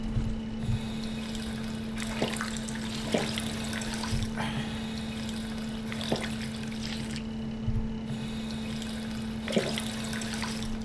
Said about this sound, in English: where's my water fountain?